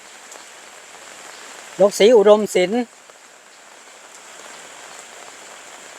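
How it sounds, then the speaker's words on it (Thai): Steady rain falls outdoors beside a Thai village house, a soft continuous hiss running throughout, briefly overlaid by a voice speaking near the middle. "เดี๋ยวพา FC ย่างเบิ่งฝนตกก่อน"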